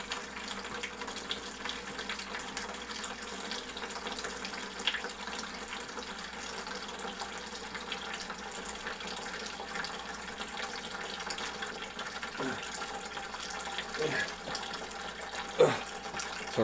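Water drains steadily from an aquarium tank during a water change, a soft continuous trickle and rush heard throughout with a few faint gurgles near the end.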